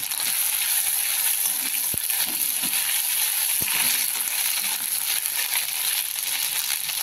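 Ginger, garlic, coriander and green chili paste fries in a pan over low gas, a continuous crackling sizzle with a couple of sharp clinks of a spoon against the pan.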